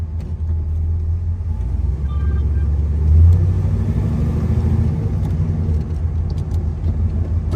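A 1973 Chevrolet Camaro drives along with a steady, deep engine rumble, heard from inside the car, loud and continuous with a slight swell partway through.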